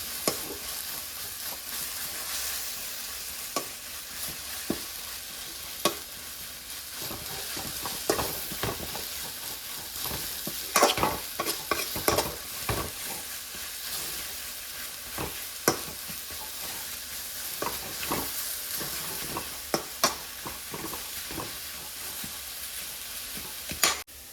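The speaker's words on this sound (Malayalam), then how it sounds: "അടിയിൽ പിടിക്കാതെ നല്ലതുപോലെ ഇതൊന്ന് ഡ്രൈ ആയി വരുന്നത് വരെ ഇതൊന്ന് ഇളക്കി കൊടുക്കണം" Egg thoran fries in a pan while a spoon stirs and scrapes it repeatedly, giving a steady low sizzle punctuated by irregular knocks against the metal, close and without speech.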